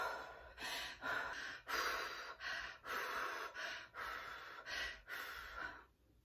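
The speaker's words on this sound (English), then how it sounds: "So a labored breathing would look something like this." Labored breathing demonstrated by a person, with heavy, fast, effortful breaths through the mouth: about eight loud, rhythmic gasping inhale-exhale cycles, close and alone, fading out at the end.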